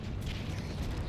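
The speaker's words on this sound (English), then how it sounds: "Watch out, grenade." A grenade detonates in Halo 2 Anniversary on Xbox One, a dense, sustained low rumble of blast and debris filling the whole moment at steady loudness.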